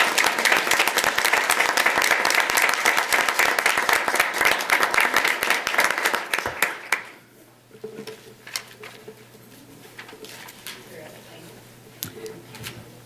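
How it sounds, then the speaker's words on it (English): A board meeting audience gives a warm round of clapping that runs strong for about seven seconds, then fades to a quiet room with scattered sparse claps and faint voices. "Let's give her a warm round of applause."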